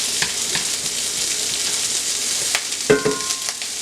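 Home fries with sausage frying in a cast iron skillet give a constant close sizzle, broken by a few sharp scraping clicks of a utensil against the pan.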